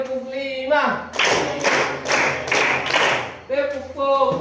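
Children in a classroom play a counting clap game, chanting voices alternating with loud, close bursts of rhythmic group clapping in a regular pattern.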